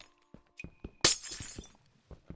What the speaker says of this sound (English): So all of this glass, we get to break.